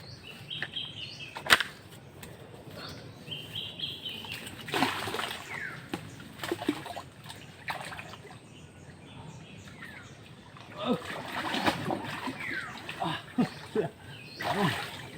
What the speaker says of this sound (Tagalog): Sisisid na naman ako nito.